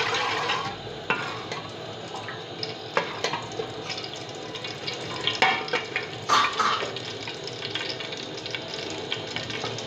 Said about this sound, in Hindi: तड़का लगाना है लहसुन का।